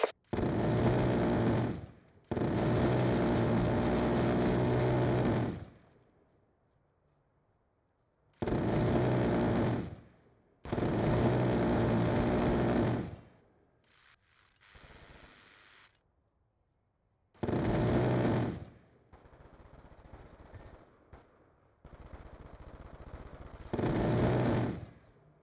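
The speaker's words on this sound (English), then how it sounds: "Death machine spinning up." The Death Machine minigun in Black Ops II whirs up and fires in long, loud, sustained bursts, starting and stopping several times with short quiet gaps between.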